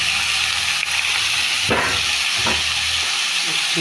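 Red amaranth greens and two green chillies hiss and sizzle steadily in a hot pan with oil, a close, continuous frying sound broken by a couple of brief stirring scrapes.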